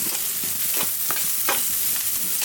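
Eggplant frying in a little oil in a pan, a continuous sizzle broken by repeated scraping stirs every half second or so, close and loud.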